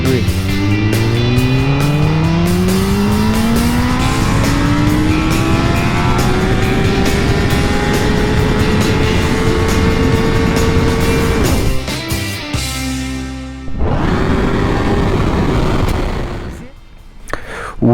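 A 2022 Kawasaki Ninja ZX-10R sport motorcycle accelerating hard in first gear in low power mode with traction control 3, engine pitch rising steadily and loudly up close before cutting off and briefly revving again.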